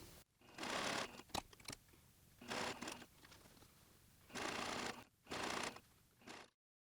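A sewing machine stitches the side seams of custom pants in four short, fairly faint bursts of whirring with quiet pauses between them.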